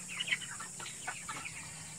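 Chickens in a small bamboo coop cluck softly, free-range and broiler birds together, with a few quiet calls scattered over a steady background hum.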